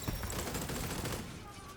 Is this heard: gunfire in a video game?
yes